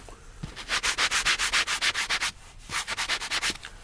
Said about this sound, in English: I sand everything down